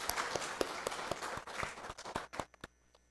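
A congregation at a Sunday afternoon church service applauds the young adults, a brief patter of claps that thins into a few scattered, distinct hand claps before stopping.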